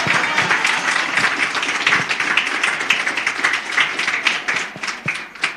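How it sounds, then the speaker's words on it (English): Audience clapping at a Nelson Mandela Day commemoration: sustained applause from a sizeable crowd, dense and steady with sharp individual claps standing out, loud and close, thinning slightly near the end. "You're clapping for my salary now."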